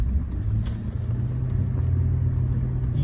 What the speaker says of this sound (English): I just want to let you guys hear that first gear whine.